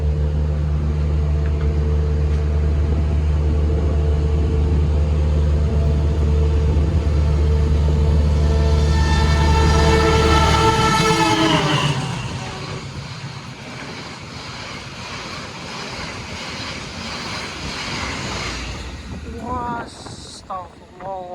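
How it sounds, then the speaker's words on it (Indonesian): The Ijen Express train from Malang to Banyuwangi rushes past at about 120 km/h, a loud steady roar and rumble that sweeps down in pitch and then fades into wind noise and rattling near the end. "Ini baru pertama kali ya lihat kereta ngebut di sini."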